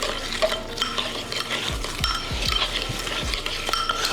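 A spoon stirs and scrapes through cake batter with crushed pecans in a bowl, giving a run of close, steady scraping strokes with occasional light clinks against the bowl.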